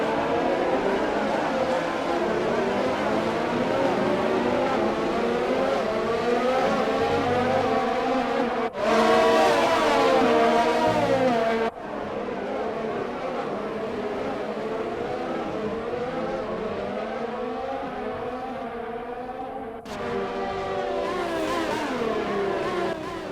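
An F1 race car in F1 2020 at the Bahrain Grand Prix screams along a long straight, engine tone rising and falling through gear changes, with sudden drops in pitch under braking, continuous and loud.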